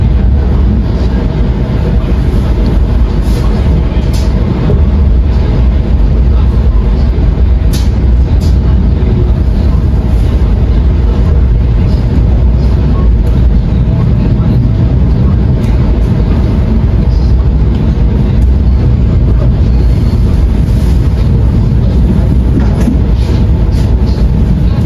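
A long passenger train pulls out of Kroya station, a loud continuous rumble of wheels and carriages heard from on board, steady and close with faint squeaks and clatter above the low roar.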